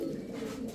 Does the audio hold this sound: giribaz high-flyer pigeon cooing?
yes